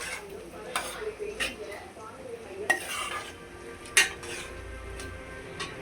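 A spoon stirs lentil dal in a metal cooking pot, with occasional sharp scrapes and clinks against the metal over a soft simmering background.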